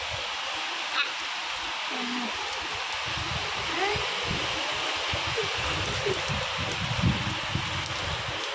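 Heavy rain pours steadily outdoors, a dense continuous hiss of drops on surfaces with scattered closer patters and splashes, steady in level throughout.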